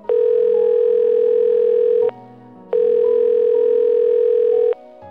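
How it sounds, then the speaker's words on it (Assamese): Telephone ringback tone as a woman calls her friend, two long steady electronic beeps separated by a short pause, loud and clear with no talk. "মনে মনে হাঁহি তাই ফোন কৰিলে সুচন্দ্ৰাক"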